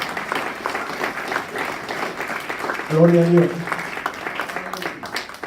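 Church congregation clapping for the Lord during a Spanish-language sermon, a steady patter of hands running beneath a pastor's amplified voice, with a brief sung or shouted swell partway through.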